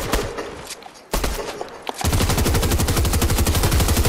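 Fortnite gunfire: scattered single shots at first, then a sustained rapid burst of automatic fire from about the two-second mark to the end, loud and close, with no talk over it.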